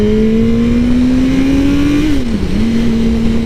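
A 1000cc motorcycle pulls away at roughly 20% throttle, its engine a loud, close, steady drone that rises gently in pitch, then briefly dips as it shifts before settling into a smooth cruise.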